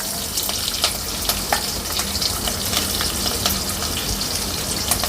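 Sliced onion, cut lengthwise, frying in hot oil for a jowar pulao, a steady close sizzle with scattered crackles and occasional stirring scrapes, no talk.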